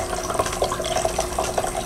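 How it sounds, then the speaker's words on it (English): Water trickles and gurgles into the river channel of a groundwater model, a soft, steady flow with small rhythmic bubbling pulses close by, without any voices. "you can see the river is starting to fill with water"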